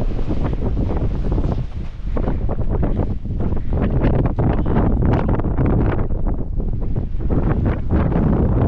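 Strong mountain wind at 3,120 metres on the Grossvenediger in the Austrian Alps, around minus 15°C, buffets hard against the microphone in loud, gusting roars, with constant rushing turbulence and no voices.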